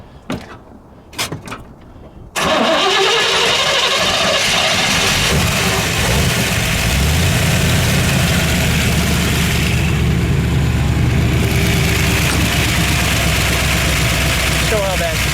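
A 1962 Chevrolet Corvette Roadster with a 327 cubic-inch, 340 hp V8 and a 4-speed fires up after a few quiet knocks, then settles into a loud, steady, close-up idle that runs on unbroken.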